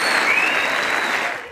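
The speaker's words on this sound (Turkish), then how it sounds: "seyirciler tarafından tüm oyuncular uzun süre ayakta alkışlandı" Theatre audience giving a long standing ovation at the end of a play about Atatürk and the bayonet charge, loud sustained applause from a large crowd filling the hall throughout.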